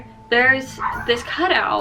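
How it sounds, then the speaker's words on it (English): A pet dog barking at the mailman: a few yips and whimpering barks from indoors, partly under someone talking. "that is my dog barking at the mailman."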